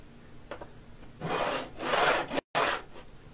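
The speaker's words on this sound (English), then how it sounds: "Continue to file away at the ends of the frets until the file itself is brought up close to the fretboard" A fret end file rasping along the fret ends of a cigar box fiddle, with several slow, steady strokes in a quiet room, each a sustained scraping sweep and one cut off abruptly.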